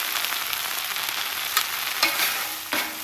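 Baby spinach sautéing on a hot griddle, a steady broad sizzle with a few spatula scrapes and turns breaking through, close and loud.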